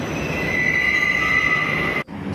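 An LRT Jabodebek train pulls into the elevated Jatimulya station platform with a steady, piercing wheel squeal over a broad rolling rumble, heard close and loud, before the sound cuts off abruptly near the end.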